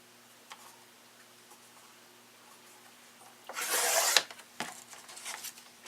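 Paper for lace spools is cut with scissors, a few faint snips and ticks early on, then a louder rasping cut near the middle followed by a couple of sharp clicks.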